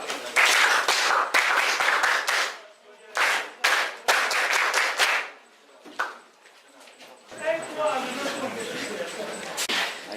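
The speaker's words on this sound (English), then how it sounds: "Clap your hand." A group at a high school claps their hands in several sharp bursts, separated by short pauses and spoken instructions, with chatter and room noise between the rounds.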